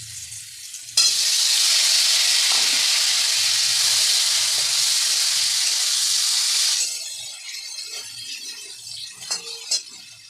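Boiled elephant foot yam dropped into hot mustard oil, bursting into a loud, steady sizzle that holds for several seconds before easing to a softer crackle with a few clinks.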